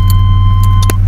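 A 1994 GMC Sierra 1500 pickup with a V6 engine and 222,000 miles idles loudly and close by with a steady, even low hum and a few faint clicks. No one speaks.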